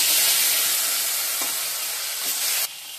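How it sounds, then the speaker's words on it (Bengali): Potato and raw banana pieces sizzle in hot oil with a steady crackling hiss, a couple of faint utensil knocks, and the sizzle drops suddenly near the end. "আলু আর কাঁচা কলাটা ভেজে নেব"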